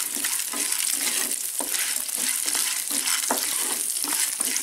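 Lentils sautéing in a pan with vegetables give a steady, close sizzle and fry with repeated stirring scrapes, loud and continuous with no talking.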